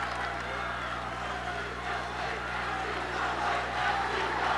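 Basketball crowd cheering on Towson State against Lehigh at the 1988 ECC Championship, a continuous indoor roar of voices that swells toward the end over a low steady hum in the arena.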